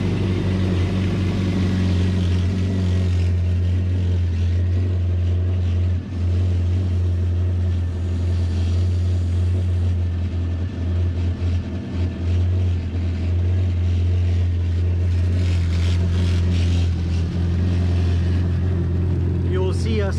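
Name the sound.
Yamaha Waverunner GP1800R engine running while flushing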